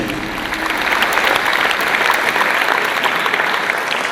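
Steady audience applause, a dense wash of many hands clapping continuously at an even, loud level throughout.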